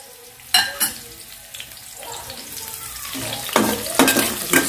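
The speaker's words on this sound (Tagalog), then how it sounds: "Gigisa ko lang yung ricado. Sibuyas, saka" Onion and garlic sautéing in a pan, a steady sizzle with sharp bursts as ingredients hit the hot oil and scrape of stirring, loud and close.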